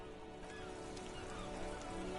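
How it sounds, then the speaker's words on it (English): Steady rain falling in the Disco Elysium video game, a continuous soft hiss of drops on surfaces with no clear talk over it. "This rain will not let up anytime soon."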